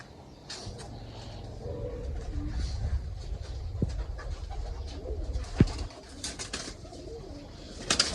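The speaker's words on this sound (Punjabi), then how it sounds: "ਆ ਆਪਣੇ ਫੌਜੀ ਉੱਡ ਵਾਲੇ ਕਬੂਤਰ ਨੇ" Military Dhamot pigeons coo softly amid scattered rustles and a few sharp clicks, with a low rumbling background throughout.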